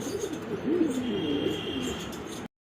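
Pigeons at a wholesale pigeon sale coo steadily and near, low rolling calls overlapping one another for a few seconds before cutting off abruptly.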